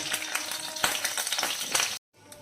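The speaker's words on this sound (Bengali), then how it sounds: "গরম মশলা দিয়ে দিব অল্প, 3টা দারচিনি, 3টা এলাচ, 3টা তেজপাতা দিয়ে 1 মিনিট নাড়ব।" Cinnamon sticks, cardamom pods and bay leaves fry and crackle in hot ghee as they are stirred for zarda semai, a dense, close sizzle with scattered sharp pops, cutting off abruptly near the end.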